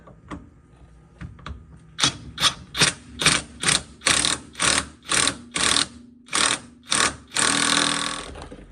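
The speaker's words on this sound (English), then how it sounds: "we're going to hit it with the impact for now, just to get it snugged" An impact wrench snugs a bolt on the front end of an '88 GMC Sierra 1500 pickup during a rebuild: a few light taps, then a loud, evenly spaced string of about a dozen close ratcheting bursts, ending in one longer continuous rattle.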